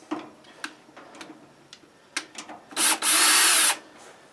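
A power tool backs screws out of a 240-volt wall thermostat casing, with light clicks and ticks leading into two short, loud, close whirring bursts, no talk.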